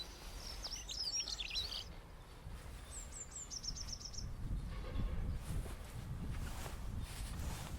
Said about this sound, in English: I was right, it is a dunnock.